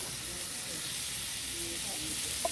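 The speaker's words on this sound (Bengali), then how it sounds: "গ্রেট করা আদা রসুন আমি দিয়ে দিলাম" Grated ginger and garlic fry in a hot wok, making a steady, close hissing sizzle that continues without a break.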